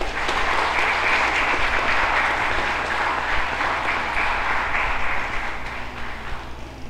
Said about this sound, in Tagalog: Pasalubungan po natin sila ng palakpak.